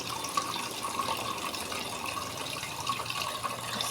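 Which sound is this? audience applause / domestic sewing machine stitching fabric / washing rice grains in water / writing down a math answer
washing rice grains in water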